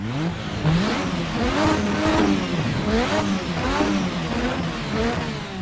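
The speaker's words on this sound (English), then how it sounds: "on board the 1986 V6. Let's give a rev" A 1986 turbo V6 Formula 1 engine in a racing video game revs repeatedly at Estoril, its pitch rising and falling in quick surges, loud and continuous with a rough, buzzy edge.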